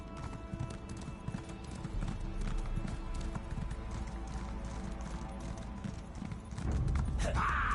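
Horse hooves galloping in The Elder Scrolls Online, a rapid steady clip-clop close up that runs throughout, with a brief neigh or game effect near the end, no speech.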